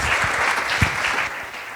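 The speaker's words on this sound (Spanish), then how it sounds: "Os ruego un aplauso para darle la bienvenida" An audience at a panel discussion claps steadily, a dense wash of applause that carries evenly and fades slightly toward the end.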